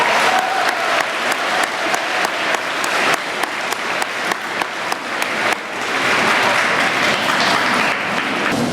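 Audience applause at a middle school Veterans Day ceremony honoring veterans, a loud, steady clapping crowd with rhythmic pulses in the first half, swelling into a denser, fuller ovation near the end.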